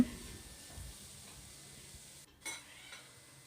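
Raw jackfruit being sautéed in a pan: quiet frying hiss with a few soft stirring scrapes, faint and close, with a brief gap before a small clatter near the end.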